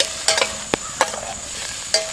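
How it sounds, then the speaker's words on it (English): Onions sizzle in cooking oil in a pot over a campfire, a soft steady hiss with a few sharp clicks of a utensil stirring, close and alone. "Alright, so they're starting to sizzle a little bit."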